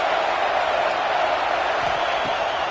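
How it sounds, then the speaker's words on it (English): A football stadium crowd at an NCAA game roars in a sustained, loud wash of cheering noise with no distinct breaks. "This crowd trying to make life miserable for this offense."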